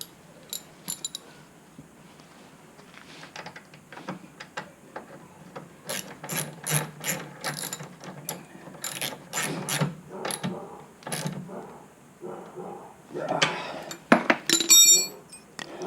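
A hand ratchet tightens a part on a snowmobile steering assembly during a repair. It gives off bursts of quick, crisp clicking strokes, sparse at first and then denser and louder, close by with no talking.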